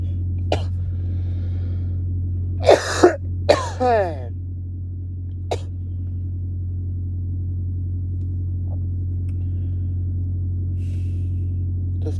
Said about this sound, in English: this cough can't go away